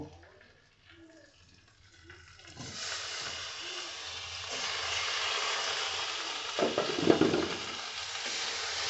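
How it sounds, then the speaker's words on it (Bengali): Potatoes fry with Kashmiri chilli powder, turmeric and salt in a pan, a steady broadband sizzle rising after a quieter start, with occasional scraping stirs and a louder burst near the end. "এটাকে আমি এই আলুটার সঙ্গে ভেজে নেব"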